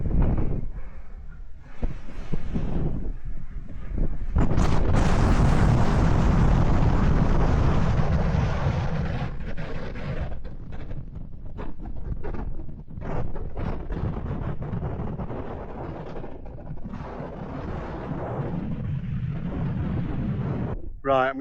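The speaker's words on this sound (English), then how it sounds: "Right, brave this wind." Strong wind buffets across an open hilltop on the way to Stoodley Pike, a loud, continuous roaring rush with gusty swells and fades, heard close up against the microphone.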